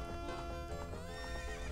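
The horse Epona neighs in Zelda Master Quest, a loud, close whinny over a steady game soundscape with faint hoof clip-clop, no speech.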